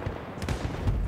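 A sniper rifle fires in Battlefield 1 amid distant gunfire, giving short booming cracks over a low, busy battlefield rumble, with no talking.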